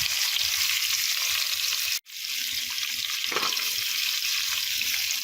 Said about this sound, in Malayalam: ഇനി ഇതൊന്ന് നമുക്ക് വഴറ്റാം